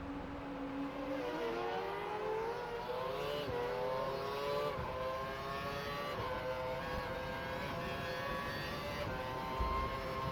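A Caterham Formula 1 car in the F1 2012 video game accelerates out of the pit lane at Abu Dhabi, its high-pitched engine whine rising steadily through the gears, loud and continuous with no talk.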